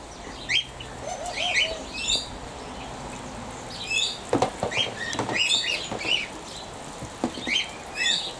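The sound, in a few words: Barbary doves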